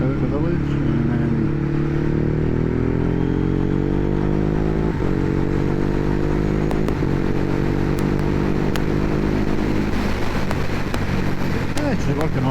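A Ducati Hypermotard 821 fitted with a Healtech quickshifter pulls hard through the gears on a road out of a village, its engine note rising and then briefly dipping at each quick upshift under strong wind noise. A rider talks over the engine.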